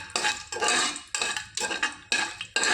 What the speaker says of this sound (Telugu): ఈ మసాలా దినుసులను బాగా వేయించుకుందాము